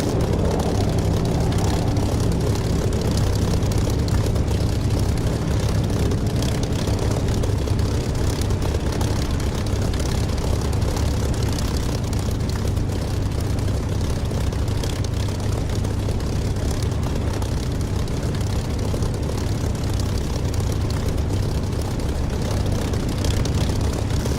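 A Spitfire in the DCS flight simulator game gives off a steady, loud propeller-engine drone that holds even and unbroken for the whole stretch, with no voices over it.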